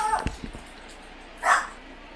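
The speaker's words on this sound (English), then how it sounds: "the dog started barking for a second" A dog in the background gives a couple of quick, muffled barks followed by a brief higher yelp, short and fairly faint indoors.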